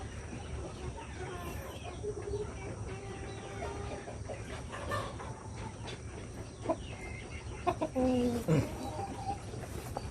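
Young chickens, fairly aggressive from little handling, give faint clucks and short squawks mixed with rustling, with a louder burst of calls near the end.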